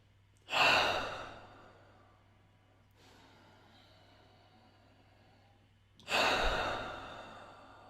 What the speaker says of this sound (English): breathe in and out a little bit faster, shortening your breathing cycle